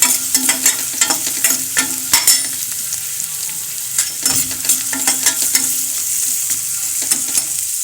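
Onions sauté in oil with mustard seeds and fenugreek, a loud, close sizzle with repeated sharp spatula scrapes and stirring knocks throughout, with no talking.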